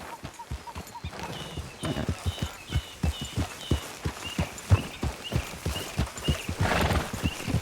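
Steady clip-clop of horse hooves trotting at an even rhythm in Red Dead Redemption 2, close and clear, with a horse whinnying briefly near the end.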